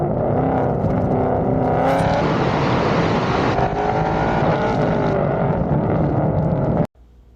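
A modified first-generation car with full bolt-ons, E85 fuel and a rear drag pack accelerates hard, engine roaring loud and close through rising revs for about seven seconds before cutting off abruptly.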